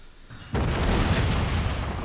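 A 24-pounder howitzer foot artillery piece fires in an Empire Total War battle, a sudden loud boom half a second in that rolls into a sustained rumbling roar and fades slowly.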